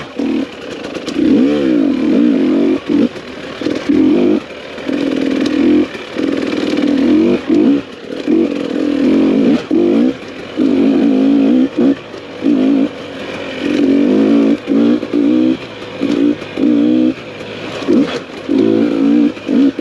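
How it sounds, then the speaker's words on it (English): A TPI two-stroke motorcycle engine revs hard as the throttle is repeatedly opened and released, producing loud, close, buzzy surges broken by brief drops, with no talking. "Heavy throttle pull. And a lot of drag when you let the throttle off."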